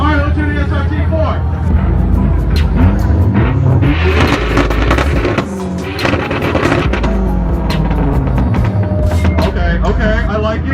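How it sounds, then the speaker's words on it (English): A Dodge SRT-4 at a car meet revs hard and loud with rising and falling engine roars and crackling bursts, while people talk and cheer nearby. "let's hear the SRT4"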